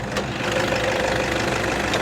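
A 2013 Toyota Vigo Champ 2.5 pickup truck engine idles close by with a steady, slightly knocking diesel-like rumble, no talking.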